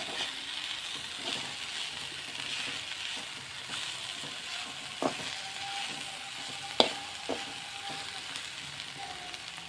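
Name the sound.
frying ginger-garlic paste in pan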